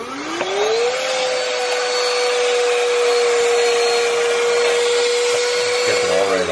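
XREXS portable handheld car vacuum cleaner picking up ordinary dirt from under a desk with a crevice tool, a loud close whine that rises in pitch as it spins up, holds steady, then shifts at the end.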